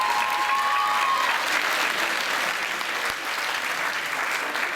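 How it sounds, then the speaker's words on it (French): An audience at a singing contest in Bain de Bretagne applauds a performer named Noël Beignet, with dense sustained clapping throughout and a brief whistle at the start. "Applaudissements,"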